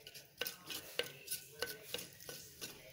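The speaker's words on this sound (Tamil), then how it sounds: "இப்போ நம்ம மிளகு சீரகம் நம்ம வறுத்துட்டு இருக்கோம்" Black pepper, cumin and dried chillies roasting in two spoons of oil in a pan, with a steady close sizzle broken by about half a dozen sharp stirring clinks and scrapes at irregular intervals.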